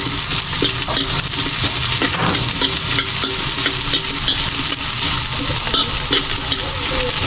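Onion and garlic sauté together in a hot pan, giving a loud continuous sizzle with frequent scraping and clattering from stirring, and no talking.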